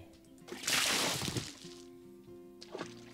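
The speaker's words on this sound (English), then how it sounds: "I am kind of getting that way with the sound of filling up water buckets" A water bucket is filled in the survival game 7 Days to Die (Alpha 11), giving a quick sloshing splash that swells and fades over a steady low tonal hum, with a smaller splash near the end.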